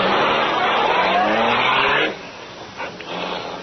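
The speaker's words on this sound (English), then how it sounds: "the powerful black car roared through the city streets" A powerful black car roars away in a vintage radio drama sound effect, a loud sustained engine rush with rising tone that suddenly drops to a quieter rumble.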